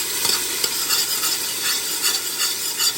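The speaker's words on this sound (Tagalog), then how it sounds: "Halu-haluin ko lang ng konti." Garlic in hot oil is stirred with a utensil while cooking pancit canton, making a loud, bright sizzle with repeated scraping strokes close by and no talking.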